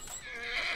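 A brief horse neigh from The Last of Us video game, a short rising whinny heard faintly alone, with no voices over it.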